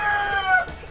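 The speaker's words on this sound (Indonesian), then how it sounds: "untuk yang di sini adalah ayam-ayam yang masih muda teman-teman" Young chickens in a small backyard galvanized iron coop give a short, tonal clucking call up close, rising and then trailing off within a second.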